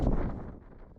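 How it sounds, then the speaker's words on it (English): Strong wind buffets the microphone outdoors on a day hike at Fort Ridgely State Park, Minnesota, a loud, broad rumble gusting at the start and easing slightly over a brief moment, with no voices. "The wind has really picked up."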